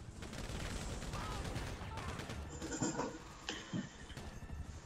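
Rapid bursts of GTA 5 Online gunfire, including a combat MG, crackle over a dense, noisy background, with a few louder shots standing out near the end.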